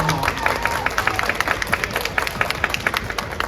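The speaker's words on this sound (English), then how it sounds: "So let's give a round of applause for this great panel." Audience applause after a women in aviation panel at an airshow pavilion, a steady dense patter of many hands clapping with faint crowd murmur, sustained for several seconds.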